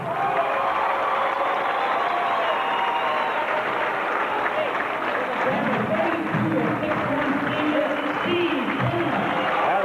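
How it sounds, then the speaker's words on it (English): A packed gym crowd at a high school basketball championship game cheers and claps in a sustained, dense roar, while a voice talks over the noise. "That's quite a crowd from Bunker Hill."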